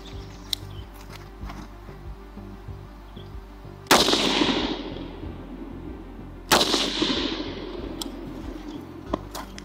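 Two loud, sharp 5.56 M193 55-grain PMC X-TAC rifle shots from an AR-15 fired at bulletproof glass, each a hard crack with a decaying ringing tail, a few seconds apart over steady outdoor background noise.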